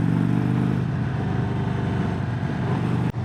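A 2025 Indian Springfield Dark Horse motorcycle at higher speed and RPM, its engine drone loud and steady with a throbbing low rumble and a faint clatter, alone with no talking.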